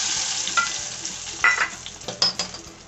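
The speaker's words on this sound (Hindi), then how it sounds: "तो जो ये हमने तड़का बना करके तैयार किया है उसे डाल देंगे इसमें" Hot tempering poured into bottle gourd raita gives a loud crackling sizzle with sharp spits and pops, close up, fading to a steady simmering hiss, with no talk.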